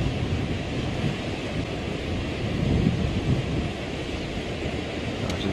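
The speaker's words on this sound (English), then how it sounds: "And the wind's blowing." Strong wind blows across an open safari landscape, a steady broadband roar buffeting the microphone with slow gusts that rise and fall, with no voices.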